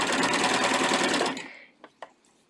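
A cover stitch sewing machine hemming knit fabric runs in a loud, steady, rapid mechanical whir for over a second, then stops, followed by two soft clicks.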